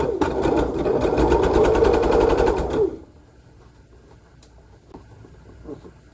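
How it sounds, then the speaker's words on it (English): A sewing machine stitches pieces of a quilt block in a fast, steady, close mechanical whir for about three seconds, then stops, leaving faint quiet handling noises. "Try to make sure you sew right over that little point"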